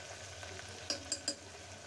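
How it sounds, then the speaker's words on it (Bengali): Chopped onion fries with ginger garlic paste in a pan, a quiet continuous sizzle broken by a few sharp clinks of a spoon near the end. "পেঁয়াজ কুচি দিয়ে দিলাম, দিয়ে আর কি পেঁয়াজটা একটু ভেজে নিচ্ছি"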